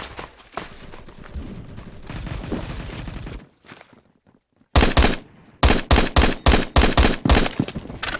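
Shots from an MSG 90 rifle in the video game Phantom Forces: a dense stretch of loud cracks, a short quiet gap, then a rapid run of about eight sharp, evenly spaced shots.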